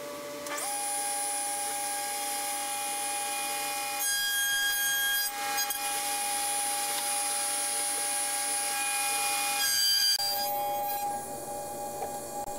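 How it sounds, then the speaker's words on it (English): A router table with an Incra right-angle fixture cuts dovetail tail boards clamped to a backing board, giving a loud continuous high-pitched whine that holds steady throughout with slight shifts in pitch as the cut changes. "I clamp my backing board and tail boards in place and then make the cuts"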